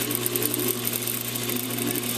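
A sewing machine stitches a shirt hem on a basting stitch, giving a steady, close mechanical whir with a fast rhythmic needle chatter and no voices.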